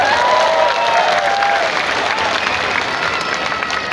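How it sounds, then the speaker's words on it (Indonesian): A crowd at a Depok anniversary celebration breaks into loud, sustained applause. The clapping fills the space evenly, with faint whistle-like tones at the start. "Tepuk tangan dong."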